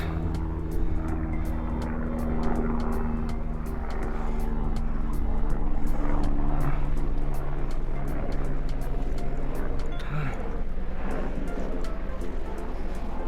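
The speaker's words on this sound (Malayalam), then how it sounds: "അതാ ഹെലികോപ്റ്റർ പോണുണ്ട്." A helicopter flies over the Everest Base Camp trek between Pangboche and Dingboche in the Nepal Himalaya, its engine and rotor making a steady, moderately distant drone that holds throughout.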